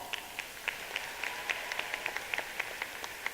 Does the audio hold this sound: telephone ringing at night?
no